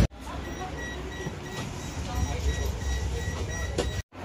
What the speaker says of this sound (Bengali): বন্ধুরা ট্রাম আসছে, আমি এটা দিয়ে উঠবো।